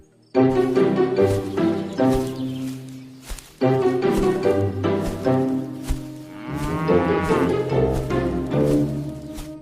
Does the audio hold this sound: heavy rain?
no